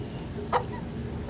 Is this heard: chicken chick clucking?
yes